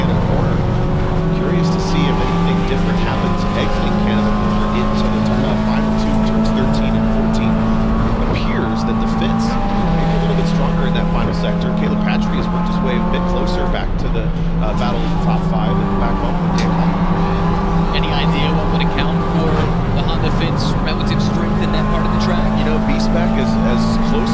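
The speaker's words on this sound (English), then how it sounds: "those Honda Fits pull out just a little bit from the exit of the carousel" Honda Fit race cars at a national championship road race, engines droning loudly and continuously as they pull hard down a straight, pitch stepping with gear changes, with a commentator talking over them throughout.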